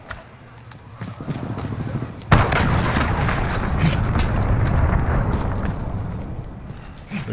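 Cruise missile explosion in a Call of Duty: Modern Warfare match, a sudden loud blast that breaks over low background rumble and then rolls on as a long, dense roar that slowly fades.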